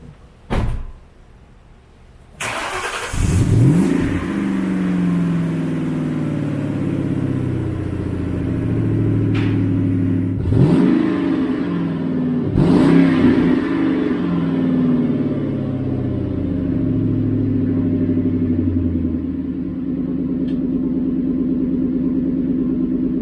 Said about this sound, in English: I want to kind of give it its first cold start.